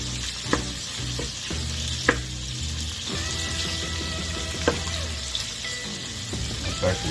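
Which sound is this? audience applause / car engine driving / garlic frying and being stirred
garlic frying and being stirred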